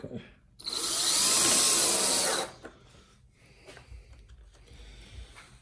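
A power drill driving screws through metal flashing on a wooden Layens swarm hive, one loud whirring burst of about a second and a half, then quieter handling noises.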